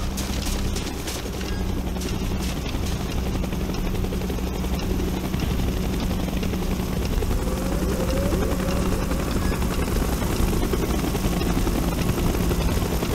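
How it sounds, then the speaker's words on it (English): A military helicopter in Call of Duty Black Ops drones loud and steady throughout, its rotor wash filling the scene as it approaches, with no voices over it. "Chopper's inbound! Move!"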